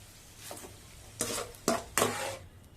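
Edible gum frying in desi ghee in a pan: a quiet low sizzle broken by three distinct stirring scrapes of a spoon against the pan.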